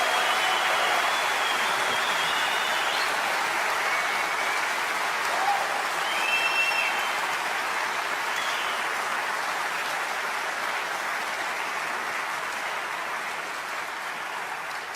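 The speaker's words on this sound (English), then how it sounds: "can we please give a big round of applause to Matt from CD Projekt Red?" Audience applauding a game-design panel at a PAX 2015 convention in Australia, steady dense clapping throughout that holds loud and even before tapering slightly at the end.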